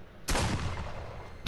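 A single loud, booming gunshot in the Friday the 13th video game, fired at Jason, with a sharp blast followed by a decaying rumble and the start of another burst at the end.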